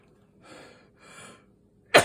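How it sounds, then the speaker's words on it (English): A person takes two slow, audible breaths in, then lets out one sudden, loud sneeze at the very end, close up with no talk. "First, I need to sneeze."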